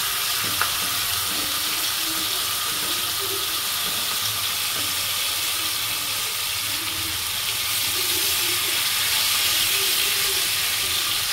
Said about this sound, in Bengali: আমি এবার চিকেনগুলো মশলার থেকে তুলে নিয়ে এক এক করে দিয়ে ফ্রাই করব।